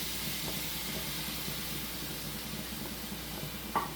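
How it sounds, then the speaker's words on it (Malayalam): Small cut pieces of pappadam frying in hot coconut oil in a Kerala home kitchen make a steady, close hiss and sizzle with faint crackles and one sharper pop near the end. "നന്നായിട്ടൊന്ന് ഫ്രൈ ആയിട്ട് വരട്ടെ പപ്പടം."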